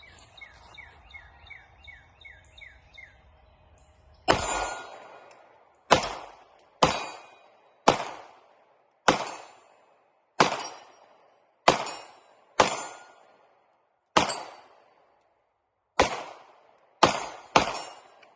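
A Girsan Witness 2311 double-stack 9mm pistol fires Winchester white box 115-grain bulk rounds: about a dozen loud, sharp shots at an uneven pace, each with a short decaying echo, after a few quiet seconds with no talk.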